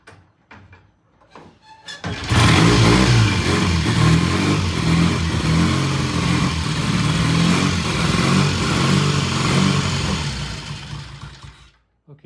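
A Triumph T100 motorcycle engine, newly started for the first time, revs loudly and steadily under added throttle for about ten seconds, close up, then drops away.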